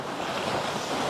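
Sea waves surge at Manapad beach, a steady loud wash of surf mixed with wind buffeting the microphone, continuous throughout with no voices.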